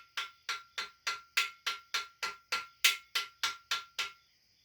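Plastic mallet tapping a main bearing into a Dodge 360 engine block, giving about thirteen sharp, evenly spaced metallic taps with a ringing tone, close and clear with no talk.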